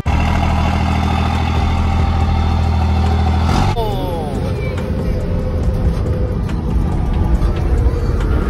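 Car engine droning steadily while driving in a crash-heavy vehicle video game, a loud continuous hum with a sudden shift partway through as the engine tone changes and skids ring out, people talking over it.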